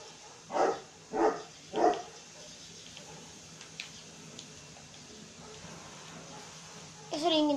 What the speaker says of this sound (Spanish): Si escuchan ruidos, es mi perro.